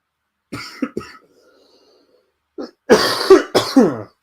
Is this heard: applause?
no